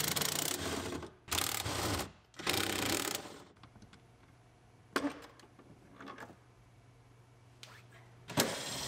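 Bolts come off the brake and clutch pedals of a 2015 Mustang GT: three loud bursts of tool noise, then scattered metallic clicks and clanks over a low hum.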